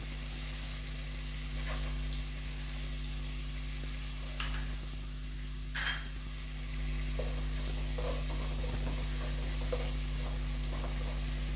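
Gojju frying in butter for kothambari chitranna, a steady low sizzle with occasional soft scrapes of a stirring spoon, close and fairly quiet, with no voices.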